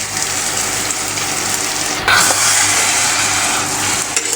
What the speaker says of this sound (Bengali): এখন আমি খুন্তির সাহায্যে এগুলো কিন্তু ভালো করে নেড়ে চেড়ে নিব।